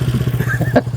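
A motorcycle engine idles up close in a village, with a steady loud low throb and rapid regular pulsing and a brief rattling clatter near the end.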